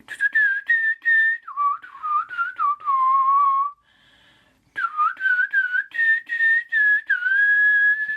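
Someone whistles a melody up close, a series of clear pitched notes in short phrases with a brief pause partway through.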